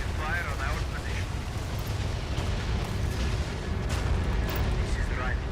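Artillery fire rumbles through a battle in the video game EndWar: a dense, continuous low booming bed with scattered bursts, while radio-style voice chatter plays over it.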